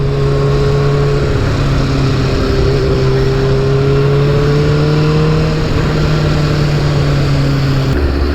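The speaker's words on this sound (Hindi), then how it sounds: "एकदम मक्खन चल रहा है भाई, एकदम मक्खन चल रहा है बाइक पूरा।" A Suzuki Hayabusa motorcycle engine runs smoothly at a steady, loud idle with a clear humming tone that rises and eases slightly, then cuts to a lower pitch near the end; no one speaks.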